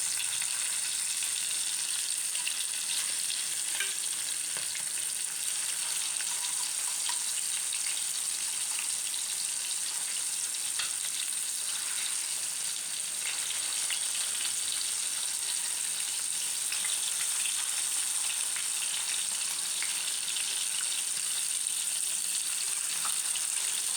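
Pond fish frying in a pan of hot oil, a steady, dense hiss and crackle of sizzling that continues evenly and fairly close throughout, with no talking.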